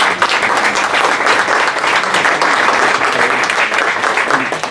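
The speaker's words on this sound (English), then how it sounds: "So please give them a round of applause." Audience applause for election candidates at a City of Sydney meet-the-candidates event, a dense, steady roar of many hands clapping close by that holds evenly for the whole stretch with no talk.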